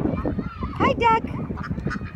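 Ducks quack in a few short bursts near people at CJ Kelly park during a feeding, with adults and children chatting throughout.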